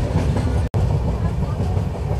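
Konark Express crossing an arch bridge near the Godavari, between Nidadavolu and Vijayanagaram, heard from on board as a loud, steady rumble and wheel clatter with a momentary dropout.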